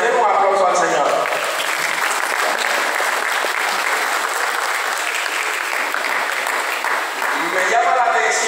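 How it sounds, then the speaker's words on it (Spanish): Loud church congregation applause for the Lord, a dense wash of many hands clapping that swells, holds steady for several seconds, then fades, with a voice over its edges. "Den un aplauso al Señor."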